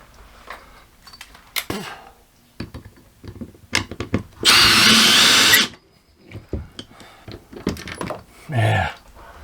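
Power drill driving lag bolts into a wall to mount a bracket, a single loud sustained whir of about a second amid clanks, taps and handling noises of tools and hardware.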